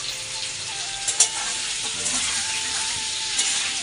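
Potatoes frying in a home kitchen pan, a steady close sizzle with a few soft clinks of stirring, moderately quiet and uninterrupted by talk.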